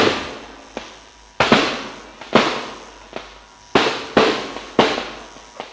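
Firecrackers pop in a rapid irregular series, about ten sharp bangs with short echoing tails, loud and fairly close, no voices.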